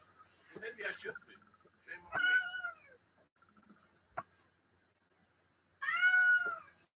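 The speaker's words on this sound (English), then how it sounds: "No, that's my cat trying to get out." A house cat meows twice, loud and drawn out with a long gap between calls, the second cry near the end; softer speech-like sounds and a sharp click occur in between.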